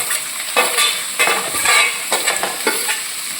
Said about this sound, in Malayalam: ഇനി ഇതൊന്ന് വഴറ്റിയെടുക്കണം. ശകലം ഉപ്പും കൂടി ഇട്ട് വഴറ്റുക.